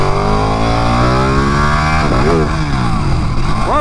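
Ducati Panigale motorcycle riding loud and close, its engine droning steadily, then revving through sharp rising and falling pitch sweeps as it accelerates past a car.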